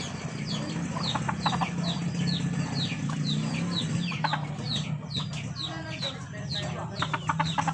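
A flock of 13-month-old stag roosters clucks and chirps steadily, many overlapping short calls over a busy farmyard background, with a low murmur of talk beneath.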